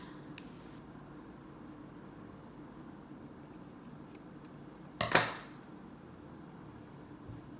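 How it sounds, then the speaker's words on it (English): A single crisp scissor snip cutting through leather, brief and close, after a faint click, against a quiet hissy background. "take your scissors and right there at the edge"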